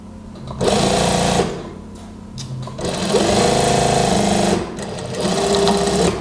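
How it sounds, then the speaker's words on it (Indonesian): A sewing machine stitches fabric for a housedress in loud, steady whirring runs, stopping briefly between bursts of sewing, close by and with no talking. "Kita jahit seperti ini."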